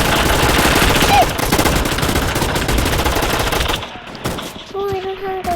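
Rapid automatic gunfire from the mobile shooter Gun Fight Arena rattles loudly in dense bursts, then stops, leaving sparse shots and brief electronic game tones. A player speaks over the gameplay.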